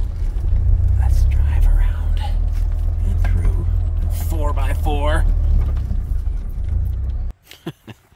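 A car engine drones and rumbles steadily from inside a roadster on a road trip, with a voice murmuring over it, before the motor noise cuts off abruptly near the end, leaving a few soft knocks.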